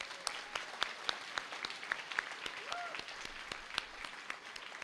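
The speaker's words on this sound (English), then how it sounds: "Please show your appreciation by giving them a round of applause." A graduation celebration audience at a university honors college breaks into applause: a fairly sparse crowd clapping with distinct individual claps standing out, moderately close, with a brief vocal sound from someone in the room.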